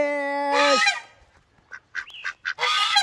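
Domestic ducks give loud, close honking quacks, first a long sustained call, then a run of short choppy calls, followed by another burst of quacking.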